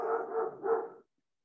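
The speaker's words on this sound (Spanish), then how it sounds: "Otra vez el perro. Parece que hoy tiene más ganas de ladrar que nunca." A single dog barks in a muffled, drawn-out double bark lasting about a second, then falls silent.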